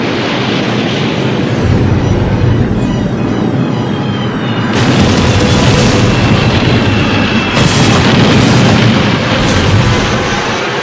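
Continuous heavy booming missile explosions in an animated cartoon battle, loud and close, rolling into one another with dense rumbling and crackling, no voices.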